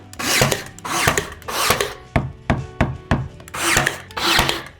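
Wall paneling being fastened to a stud: rasping wooden scrapes and bursts of handling noise mixed with a quick run of sharp, close knocks in the middle. No one speaks.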